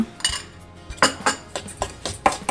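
Sugar spooned into a bowl for banana martabak batter: a metal spoon clinks and scrapes against the bowl in about six separate knocks, close and clear, with no talking.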